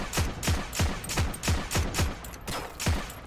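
A semi-automatic M1 rifle fires at a range in Heroes and Generals, seven evenly spaced sharp shots about half a second apart, each a crisp crack with a short tail.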